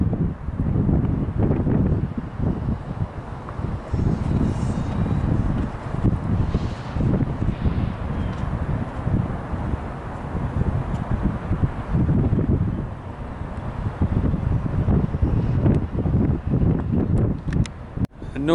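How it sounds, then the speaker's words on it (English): Strong wind at the Pecos River High Bridge buffets the microphone in continuous low, rumbling gusts, loud and unbroken throughout. "I know it's going to be really windy."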